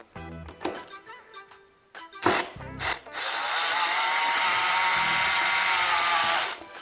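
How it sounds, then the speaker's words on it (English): Power tool screwing a bolt into a gaming racing-style chair during assembly, with a few clicks and clunks of handling followed by a steady whirring drive of several seconds that then stops. "then you screw it in."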